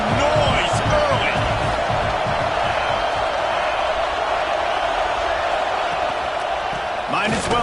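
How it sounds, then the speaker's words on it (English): Roaring stadium crowd at an NCAA 26 college football game, a dense, steady wall of cheering and noise with bright whoops rising through it, continuous and loud throughout. "This crowd bringing the energy and noise early."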